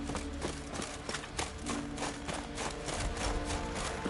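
Galloping horse hooves in The Witcher 3, a fairly quiet, steady rapid clip-clop running throughout beneath continuous background game sound.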